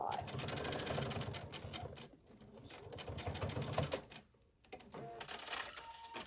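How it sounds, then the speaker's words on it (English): A sewing machine back tacks at the end of a Hawaiian shirt seam, with close, rapid clattering bursts of stitching that stop briefly and then resume. "So we're going to back tack a little bit at the end of that seam"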